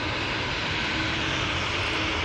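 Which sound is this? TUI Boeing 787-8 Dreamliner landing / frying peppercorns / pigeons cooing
TUI Boeing 787-8 Dreamliner landing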